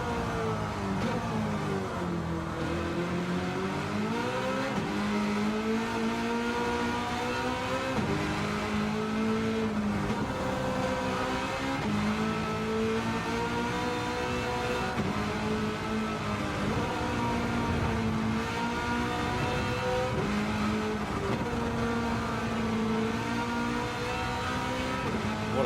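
A V8 Supercar race car engine roars continuously on the Mount Panorama circuit at Bathurst in a sim racing game, loud and close, its pitch repeatedly rising under acceleration and falling through gear changes and braking.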